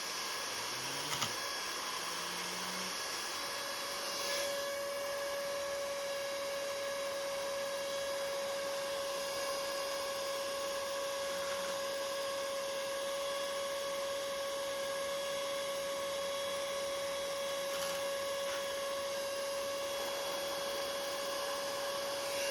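A small air blower pushes air into a 14-year-old computer, giving a steady, faint whine over a continuous airy hiss that holds unchanged for the whole stretch.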